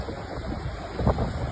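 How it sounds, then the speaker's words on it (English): Flooded river in western Washington rushing past, a steady broadband roar of turbulent water with wind buffeting the microphone, continuous and fairly loud with no voices. "Now it's flowing like a whole ass river right here"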